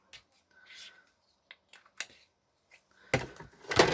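Scissors trim paper for a pastel goth junk journal, with scattered short snips and crisp cutting sounds up close. A soft whispering voice and a louder rustling burst come near the end.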